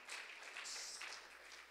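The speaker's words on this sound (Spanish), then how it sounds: "Denle un fuerte aplauso al Señor." A church congregation applauds together, a steady, dense wash of clapping from many hands that holds evenly throughout, with no voices rising above it.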